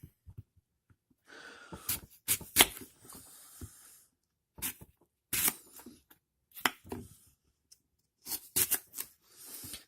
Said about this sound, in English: Slices through an apple quite well.